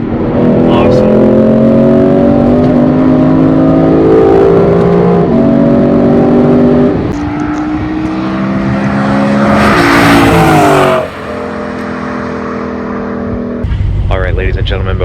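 A 2017 Lexus RC F engine drones loudly and steadily through a corner, its pitch sliding down under braking and rising again, with a harsh burst near the end and a person talking over it.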